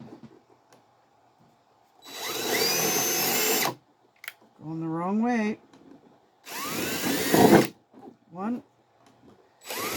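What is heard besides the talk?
power drill drilling holes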